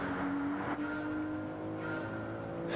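A 1997 Toyota Supra in Gran Turismo 7 at a steady engine drone, holding a sustained tone with small pitch shifts, with no voices present.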